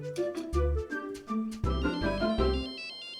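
A phone ringtone plays a bright, chiming melodic tune in repeated notes over a low bass pulse, fairly loud and close, with no talk over it.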